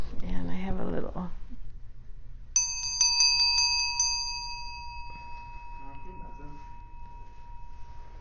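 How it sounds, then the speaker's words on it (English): A small bell struck once during a yoga session rings out clearly and sustains with a long, fading tone, preceded by a soft spoken voice. "It's a nice bell, huh?"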